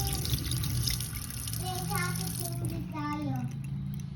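A kitchen sink drain gurgles and bubbles after a cleaning soak, with rising watery glugs under a steady running-water wash, fairly faint and close.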